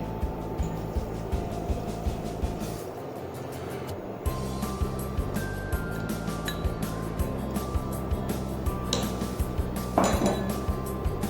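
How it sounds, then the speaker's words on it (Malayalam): Sugar is stirred in a metal pan until it dissolves while making a cake. A utensil ticks and clinks against the pan in a steady, rhythmic pattern over a constant low hum. "ഈ പഞ്ചസാര അലിയുന്നതുവരെ നന്നായി ഇളക്കി കൊടുക്കാം."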